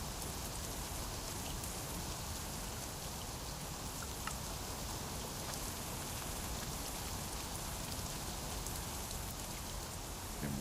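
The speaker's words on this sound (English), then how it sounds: "It's been raining a while." Steady rain falls throughout a survival video game, a dense, even hiss of drops on surfaces that stays constant from start to finish with no talk over it.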